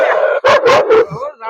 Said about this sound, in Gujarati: જોવો કૂતરા પણ ભસવા માંડ્યા છે